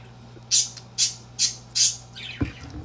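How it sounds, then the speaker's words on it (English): Pet birds squawking indoors: four harsh, evenly spaced shrill calls, close and loud over a low steady hum, followed by a softer trailing call. "My birds."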